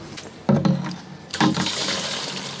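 Water from carried containers is poured into a canal boat's water tank, giving two separate gushing, splashing pours, each a second or so long, close by and fairly loud.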